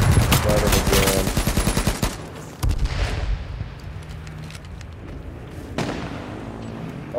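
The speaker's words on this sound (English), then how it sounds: "Oh, I just got sniped." Gunfire in the H1Z1 battle royale game, including a sniper rifle shot: a dense, rapid run of sharp shots fills the first two seconds, then scattered loud cracks follow over a steady background.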